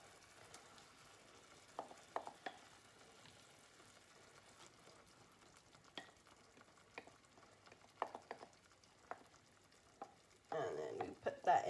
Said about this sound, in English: And then you just mix the kidney beans into the tomato sauce like so.